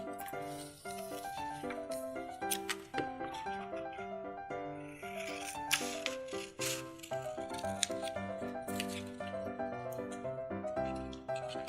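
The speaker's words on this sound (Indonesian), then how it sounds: "Kita gunting seperti ini." Scissors cutting through paper for a craft activity, a long series of close, crisp snips and rustles with light handling noise between cuts.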